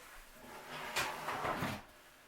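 A drawer at a makeup vanity slides open in one smooth wooden rumble lasting about a second, close and fairly quiet.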